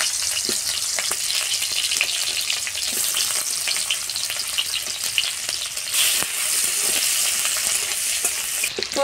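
Onions frying in hot oil, a loud, dense and continuous sizzle with scattered crackles and pops close up, rising slightly partway through, with no voices.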